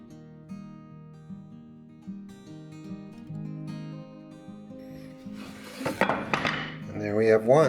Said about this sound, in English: I'm going to use my saber saw and cut it out